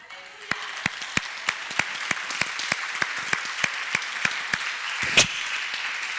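A church congregation applauds for Jesus during a Spanish-language sermon, a soft, even patter of many hands with sharper claps repeating at a steady beat and one brief louder burst near the end, heard from some distance.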